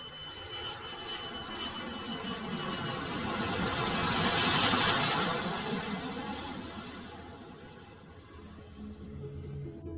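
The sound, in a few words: airliner jet engines started, plane departing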